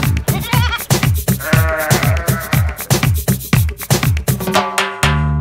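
Rhythmic, pitched sheep bleats repeat in quick succession over bouncy music in an animated children's nursery rhyme song, loud and close.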